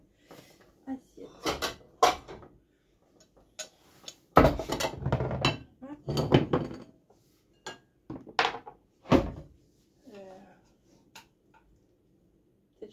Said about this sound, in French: je vais servir dans des assiettes creuses